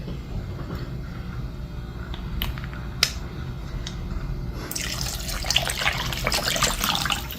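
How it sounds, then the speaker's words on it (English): Tap water fills a jar in a home kitchen, starting as a quiet background trickle with a few clinks, then swelling into a loud, bright rush of running water for the last few seconds. "I just filled up my jar with water and got that inside of there."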